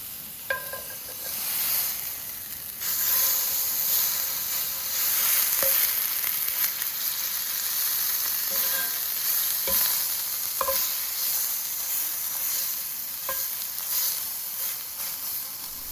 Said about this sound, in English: place the fillet on the pan and let it sizzle for about 3 minutes per side